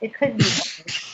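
A single short sneeze bursts out and is followed by a brief exhale, close and fairly quiet, with a person speaking just before it.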